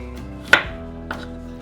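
A knife chops through a piece of raw chicken on a board in a home kitchen, two distinct cuts about half a second apart, the first sharper and louder, with no talking.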